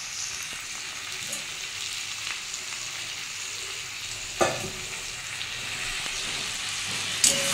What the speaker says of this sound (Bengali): এই বন্ধুরা এটা আমি কষে নেবো একটু ভালো করে